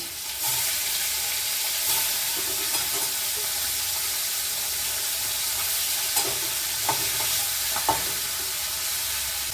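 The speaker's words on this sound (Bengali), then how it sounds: "দেখুন মাছগুলো ভাজা হয়ে গেছে," Koi fish frying in hot oil in a pan: a loud, continuous sizzling hiss fills the whole stretch, with a few soft clinks of a spatula against the pan and no talking.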